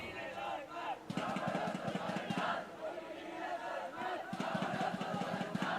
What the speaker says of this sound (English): The crowd really going